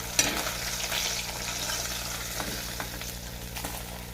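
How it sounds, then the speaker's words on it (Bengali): Steady oil sizzle and crackle from fish frying, fairly close, with a few soft clinks of a utensil near the end. "আমি মাছগুলো সব ভেজে নিয়েছি, মাছগুলো আমার সব ভাজা হয়ে গেছে।"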